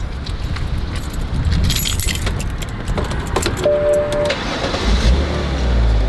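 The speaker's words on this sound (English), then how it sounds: "you start the car" Keys jangle in the ignition of a BMW E90 328i sedan, followed by the engine cranking and starting up near the end, with steady low engine rumble throughout.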